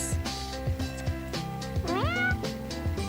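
Meowing from a cat in the dating simulator game Purrfect Date, a couple of clear, rising cartoonish meows over a looping, plinky musical backdrop.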